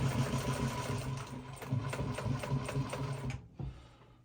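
A sewing machine stitching a hunting saddle runs in a fast, steady mechanical chatter, loud and close, then stops abruptly near the end, leaving a brief quiet tail.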